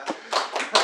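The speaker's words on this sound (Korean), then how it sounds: "박수" A few quick hand claps, four short bursts in under a second, from a middle-school youth group during a church sermon; close and alone, with no talking.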